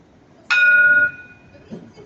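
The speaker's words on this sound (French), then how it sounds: "Petit coup de gong." A single tram station chime at Magnan rings out clearly, a bright sustained bell-like tone that fades after about half a second, with faint background ambience and no talk.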